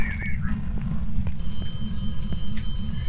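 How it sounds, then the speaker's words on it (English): Steady electronic telephone ringing from a phone inside a haunted Brownstone High School in Phasmophobia, a continuous high tone over a low game-ambience rumble, with a few faint footsteps. "We got a ringing phone."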